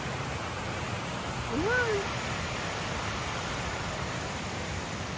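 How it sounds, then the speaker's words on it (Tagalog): Steady broadband rush of water from Anna Ruby Falls, a waterfall in Georgia, USA, heard close and continuous, with a brief spoken exclamation over it partway through. "Maririnig po natin dito yung tunog ng tubig."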